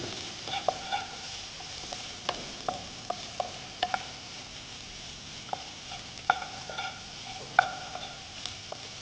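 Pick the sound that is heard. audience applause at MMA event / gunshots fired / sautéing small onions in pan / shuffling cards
sautéing small onions in pan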